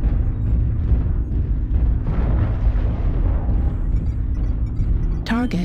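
Airstrike explosions in the mech combat game MechWarrior Online, a continuous heavy rumble of booms and blasts with a sharp electronic chirp at the end and a voice faintly under the din.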